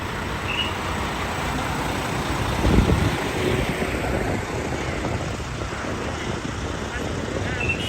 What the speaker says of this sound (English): loud trucks like these, which are rare in the middle of Europe, especially these construction trucks